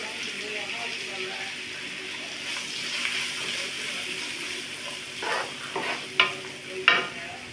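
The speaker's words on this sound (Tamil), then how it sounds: "இந்த வெங்காயம் வதங்கிட்டோம்" Chopped onions sauté in a pan with a continuous crackling sizzle, while spatula stirring scrapes and clacks come through more strongly toward the end.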